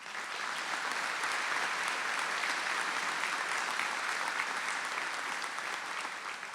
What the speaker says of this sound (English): Let's give all of our Win Award recipients a big round of applause.